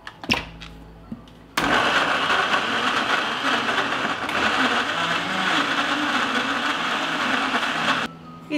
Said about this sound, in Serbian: Očišćene breskve samleću u blenderu.